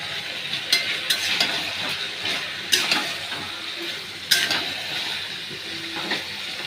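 Potato pieces drop into a frying pan of browning spiced onion mixture, setting off a steady sizzle with a series of distinct sharp knocks and scrapes spaced a second or two apart.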